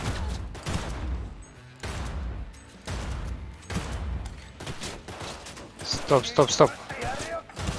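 Gunfire in the video game Cyberpunk 2077 crackles in short, sharp bursts, with a cluster of louder shots near the end, while someone talks over much of it.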